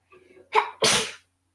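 One close, loud sneeze from a child in a kindergarten group, with a short sharp intake of breath followed by an explosive burst, then quiet.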